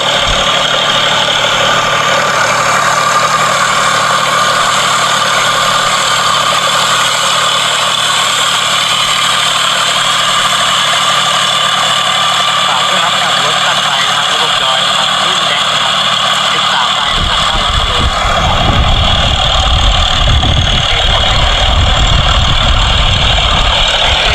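A Yanmar 24 hp tractor engine idles on a Thai rice farm, a steady, loud drone held throughout, with a rougher, heavier rumble building near the end.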